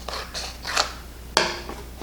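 Cutting material for a Dollar Tree farmhouse sign, a few quiet, irregular snips and scraping cuts close by, one sharper crisp cut standing out over a low hum.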